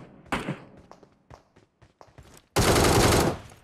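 In PUBG Mobile, a few sharp gunshots pop early on, then a loud sustained burst of automatic fire runs for nearly a second near the end.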